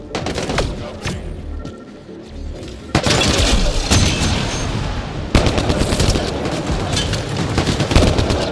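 Gunfire in the sci-fi game Mass Effect: Andromeda: bursts of rapid shots and heavy booming blasts, loud and close, with sharp onsets at intervals over a continuous din of combat.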